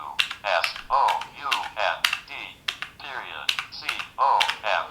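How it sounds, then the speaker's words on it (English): Keys tapped on a braille keyboard while entering computer braille, crisp clicks scattered among a person's talk, close and fairly loud. "this is computer braille, we're typing in .46 for period"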